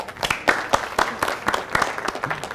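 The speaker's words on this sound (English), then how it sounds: "Let's give them all a round of applause for the generosity in the live chat." Sparse, uneven clapping from a small group at a business hall of fame awards event, individual claps distinct and irregular rather than a full ovation.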